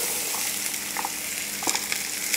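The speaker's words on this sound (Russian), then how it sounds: "Масло издало характерный звук того, что оно закипело." Onion and carrot frying in hot oil, a steady broad sizzle with a few sharper crackles and pops, close and continuous with no talking.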